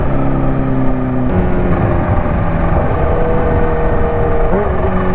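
A Kawasaki H2 motorcycle engine runs loud and close, a steady powerful drone with pitch shifts as it revs, continuous throughout.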